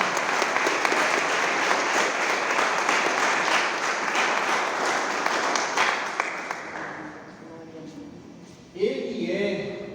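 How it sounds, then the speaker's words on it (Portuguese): A church congregation applauds loudly and steadily for several seconds; the clapping then thins and fades as a voice begins speaking near the end. "Mais uma vez aplauda ao Senhor."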